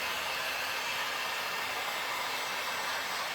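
A hair dryer blowing on a homemade sparkly silver tray, a loud, steady, close whooshing roar holding constant throughout with no talk.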